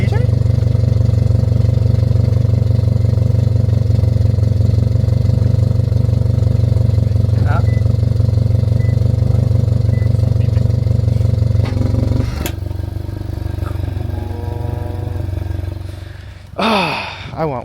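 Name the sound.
Subaru WRX valved exhaust engine revving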